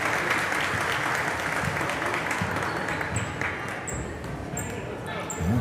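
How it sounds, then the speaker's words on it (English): Crowd at a girls' high school basketball game applauding an injured player as she is helped up, steady clapping in the gym with a commentator talking over it and sneaker squeaks. "Crowd giving her a round of applause"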